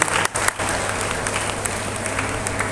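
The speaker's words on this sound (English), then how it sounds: "Please give the applause to great applause." An audience at a formal ceremony presided over by a state governor breaks into sustained, dense applause, full and even after a brief opening dip.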